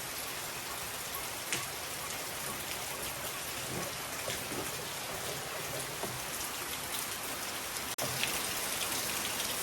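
Steady, heavy monsoon rain pours down outdoors in a village throughout, a dense continuous hiss with scattered drops pattering close by, and a brief sharp knock near the end.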